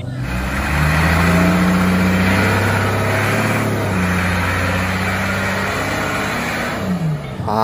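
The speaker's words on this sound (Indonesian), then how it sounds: "Wow, ternyata ada forklift." Toy forklift giving off a steady electronic engine-and-revving sound, loud and continuous with a rising rev partway through and no talking over it.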